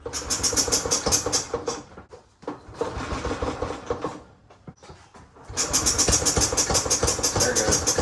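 Type Y flathead engine idling steadily and loudly, with a strong low rhythmic chug; the running briefly drops away midway, then resumes at full strength, with a few faint voices in between.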